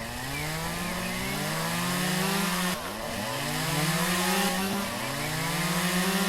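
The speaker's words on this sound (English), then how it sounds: "Of course, we got the better chainsaw, so that's making it all a bunch better." A chainsaw in the Lumberjack's Dynasty video game cuts through shrubs, its engine whining continuously and rising and falling in pitch as it bites, loud and close throughout.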